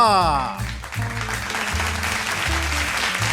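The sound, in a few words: audience applause welcoming finalists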